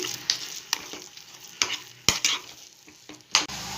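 Moong dal barfi mixture is pressed and stirred in a pan, with sharp scraping strokes of a spatula recurring every half second or so over a soft sizzle.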